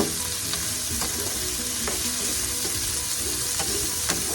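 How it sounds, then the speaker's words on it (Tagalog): Ginger stirred into a sizzling pan while cooking paksiw na tulingan, a fish dish: steady close frying hiss with several soft scraping strokes and light clicks of the spoon, no voices. "at ihalo ko na rin ang ating luya"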